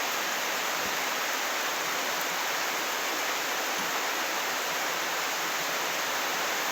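Steady, dense rainfall hissing without a break, a constant broadband wash with no voices or other distinct sounds.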